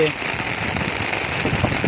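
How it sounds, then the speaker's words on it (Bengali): Steady, dense rain pours down close by in an open field, a continuous hiss of drops hitting surfaces with no pauses. "প্রচন্ড বৃষ্টি শুরু হয়ে গেছে চারিদিকে।"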